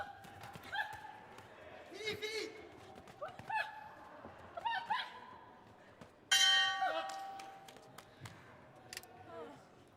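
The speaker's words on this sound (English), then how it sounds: "there goes the bell and the end of the fight" At the Youth World Boxing Championships 2021, a boxing ring bell clangs once, loud and metallic, to end the bout. Its tone rings on and slowly fades over commentary and arena noise.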